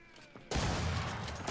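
A single sniper rifle shot from the video game Gears 5 bursts in loudly after a quiet moment, with a sustained booming tail and gunfire noise carrying to the end.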